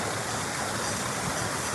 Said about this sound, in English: Waterfall features.